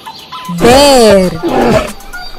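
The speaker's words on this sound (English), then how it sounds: "Bear." A toy bear lets out one loud, rising-and-falling growling roar lasting about half a second, followed by a softer second growl, with light clicks around it, near and without talk.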